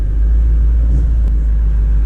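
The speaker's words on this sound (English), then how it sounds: "V8 just sounds so much better, you know?" A BMW M8 Competition convertible's V8 rumbles steadily from inside the cabin while driving, a deep, continuous low drone with no one talking.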